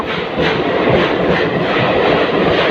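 A fast train speeding out of platform two at Alipurduar station, a loud continuous rushing rumble of passing coaches with faint rhythmic wheel clatter, heard alone without voices.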